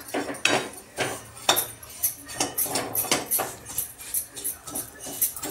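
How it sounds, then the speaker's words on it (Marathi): Vermicelli being fried in ghee in a pan, with a spoon or spatula stirring it and giving repeated close metallic clinks and scrapes in an uneven rhythm. No talking. "आता हे शेवाळे आपण तुपामध्ये थोडं फ्राय करून घेऊ, थोडं ब्राऊन होईपर्यंत"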